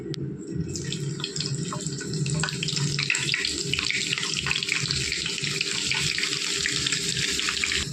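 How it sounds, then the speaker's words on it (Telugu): Dried fish pieces frying in hot oil in a pan, a dense continuous sizzle and crackle close by, bursting in at the start and holding steady without talk. "ఇప్పుడు ఎండి చేప ముక్కలు అయితే వేసుకుందాము నూనెలో"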